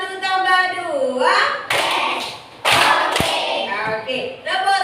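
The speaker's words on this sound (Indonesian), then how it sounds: "Tepuk 1 tambah 2." A fourth-grade elementary class performs the '1 plus 2' clap pattern: one sharp group clap followed by a tight pair, with children chanting around the claps. The sound is close and loud.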